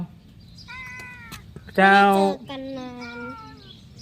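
A pet cat meows several times in a chatty, talk-like way, with one louder drawn-out meow in the middle, while a person briefly speaks nearby.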